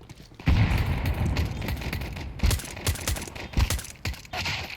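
Gunfire in Counter-Strike 2 during a competitive round: several sharp, loud shots and short bursts spaced unevenly over a low background, close and punchy.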